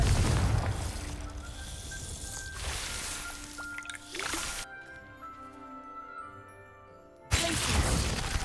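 A Confringo spell explosion in Hogwarts Legacy: heavy booming blasts with crackling debris and magical tones, a sudden drop to near quiet, then another loud burst near the end.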